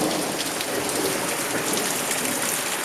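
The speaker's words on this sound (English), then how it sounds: "Rain is pouring down." Heavy rain pouring down during a thunderstorm, a dense steady hiss of drops drumming on surfaces, loud and continuous with no pauses or talking.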